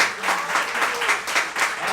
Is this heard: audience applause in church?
yes